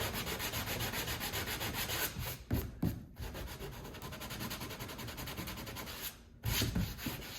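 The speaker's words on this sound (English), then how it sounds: "Now we're gonna bring our sandpaper over. Kind of sand out the rough spots there." Sandpaper rubbed by hand over rough spots on a plastic canoe hull, a continuous close scratchy rasp with two brief breaks as the strokes pause, steady and fairly loud.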